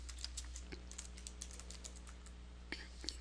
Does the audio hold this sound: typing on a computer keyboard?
yes